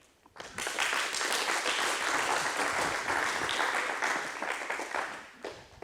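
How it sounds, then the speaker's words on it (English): Audience applause at an airport ribbon-cutting ceremony for a new snow removal equipment building, a full sustained burst of many hands clapping that swells quickly, holds steady for several seconds, then thins out near the end. "So I'd like to give a moment to give them a round of applause too"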